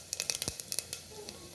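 Two red chilies and cumin seeds hit hot oil for an aloo palak sabji, giving a quiet burst of sharp crackles and pops that settles into a soft, faint sizzle.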